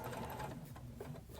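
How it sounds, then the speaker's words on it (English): A sewing machine stitches a dart in wool coat fabric, its needle mechanism whirring in a quick, even chatter, fairly quiet and close, with nothing else heard. "So this is me sewing the dart."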